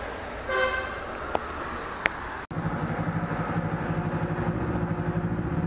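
An FKM Falcon 400x motorcycle engine runs steadily and loud after a brief horn-like toot and click at the start, the engine note rough and pulsing as it pulls through the gears.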